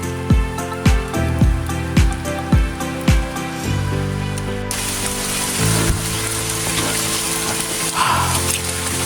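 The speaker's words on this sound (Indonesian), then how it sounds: "Hujan sudah mulai turun" Rain on a fog-shrouded mountain trail on Gunung Malabar, a steady hiss of drops on leaves and ground. Over the first half it sits under a repeated plucked or tapped rhythmic sound, then it continues alone as a dense, even wash.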